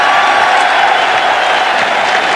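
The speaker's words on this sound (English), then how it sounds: "And Louis Acaries, greeted by the crowd." A boxing arena crowd at a 1985 IBF junior middleweight title fight roars and applauds as a boxer is introduced, a loud, continuous wash of cheering and clapping.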